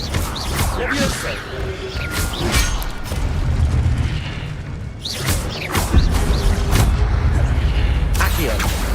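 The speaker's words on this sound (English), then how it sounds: "Levioso." Levioso levitation spell cast in the Hogwarts Legacy video game, with airy whooshes and swishes, several low booms and a few thuds repeating through a busy, continuous game soundscape.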